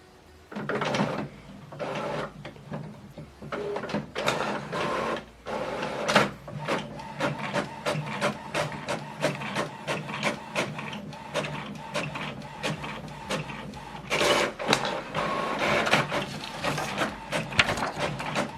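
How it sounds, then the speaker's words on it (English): An HP Officejet Pro printer prints a network report: a steady, close mechanical whir and rattle of moving parts and gears, with repeated clicks and clunks as the paper feeds, running continuously. "Print network report. Now it's printing the information that we need."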